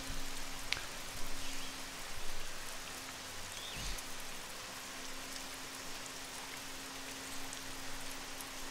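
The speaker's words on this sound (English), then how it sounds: "Oh, it's raining." Steady hiss of rain falling in the Woodcutter Simulator 2013 video game, a continuous even wash with faint drips and a low steady hum beneath, no voices.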